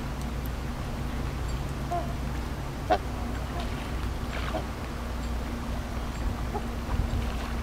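Trumpeter swans call with a few faint, distant honks on a cold morning at the Port Severn locks in Ontario, heard over a steady low hum of outdoor background noise.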